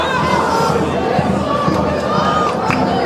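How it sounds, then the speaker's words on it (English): Crowd at a women's Bundesliga football match at Red Bull's training centre, Cottaweg, a busy murmur of chatter and scattered calls at moderate distance, with a commentator's voice talking over it. "and a healthy crowd"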